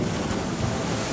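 Heavy waves surge around a catamaran motoring almost straight into them in rough weather, a dense continuous roar of surf and wind buffeting close by, with no talk.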